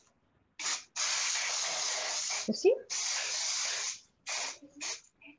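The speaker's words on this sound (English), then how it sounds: "Okay, it's spray." A brand-new spray bottle gives several hissing bursts, one long and steady and others short, close and fairly loud. A brief voice cuts in between sprays.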